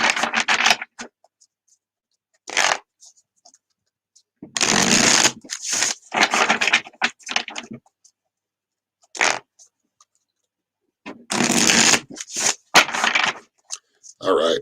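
Tarot cards being shuffled by hand in bursts of crisp riffling and sliding, close and fairly loud, separated by short silences with a few brief taps between.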